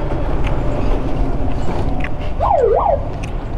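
An ambulance siren wails on a road on the way into Kathmandu, a brief rising-and-falling sweep heard over continuous low traffic and engine rumble, moderately distant.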